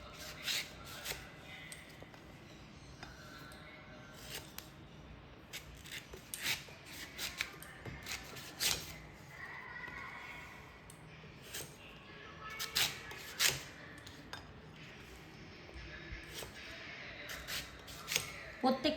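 A knife slices through raw green mangoes still in their peel, giving repeated crisp cuts and scraping rubs at an irregular pace, close and fairly quiet.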